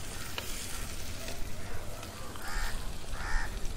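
Soaked urad dal frying in oil for a Khandeshi-style bhaji, a steady close sizzle with stirring scrapes, while crows caw faintly in the background.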